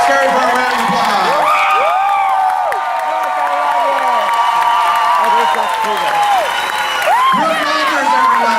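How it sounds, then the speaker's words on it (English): At the Knott's Scary Farm preview event, a loud crowd applauds and cheers the haunt designers, with whoops and shouted voices rising above continuous clapping close by. "please give them a warm Scary Farm round of applause"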